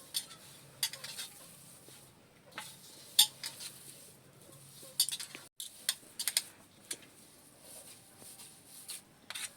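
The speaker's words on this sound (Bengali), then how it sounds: "এখানে গুঁড়ো চিনি দিয়ে আমি আবারও মাখিয়ে নেব।" Spoon clinking and scraping against a bowl while chhena is mixed with powdered sugar, a series of light, irregular metallic taps and stirring scrapes over a quiet background.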